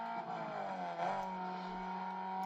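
Race car engine from Need for Speed ProStreet held at a steady high drone throughout, driven flat out with a sustained whine that rises slightly and stays loud and continuous.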